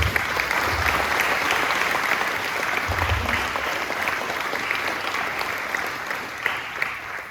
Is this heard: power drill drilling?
no